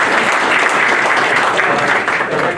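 An audience at a public safety meeting gives a director a dense, loud round of applause that stays steady throughout.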